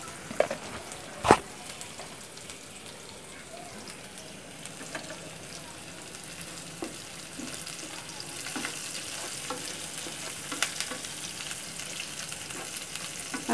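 Onion frying in a pan gives a continuous soft sizzle with scattered crackles and pops, one sharp clack early on, and the frying grows denser and louder in the latter half.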